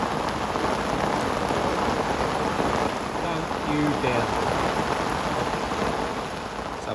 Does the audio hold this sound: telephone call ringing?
no